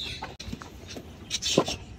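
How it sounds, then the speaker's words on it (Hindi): A hen of the Aseel breed clucks in a backyard pen, giving a few short, scattered clucks at close range over some rustling and background noise. "यार श्री मुर्गी हमारी कहाँ गई"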